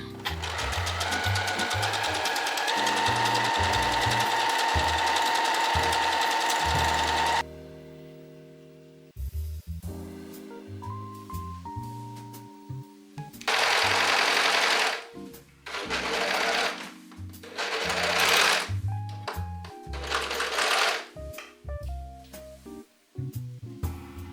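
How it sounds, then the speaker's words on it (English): A sewing machine stitches dress seams in a series of close, loud whirring runs, starting with one long run and then shorter bursts broken by brief pauses and quieter handling sounds. "Now we're going to sew all the seams with a 3/8 inch or 1 centimeter seam allowance."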